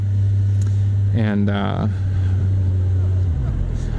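A 2018 Kawasaki Ninja 1000 (Z1000SX) engine hums steadily at low revs while riding, a sustained drone under a rider's brief talk.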